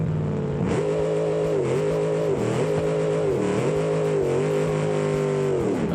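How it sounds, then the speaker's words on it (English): Car engine in BeamNG revving loudly and continuously, the pitch dipping and climbing in several repeated surges as the throttle is worked, with no one talking. "Let me know if this engine's too loud too."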